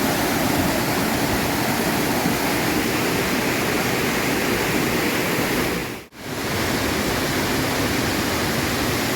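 Strong waterfall flow at Curug Naga Biru in Sukamakmur, Bogor, a loud, steady broadband roar of rushing water that fills the whole clip, dropping out for a split second midway before resuming unchanged.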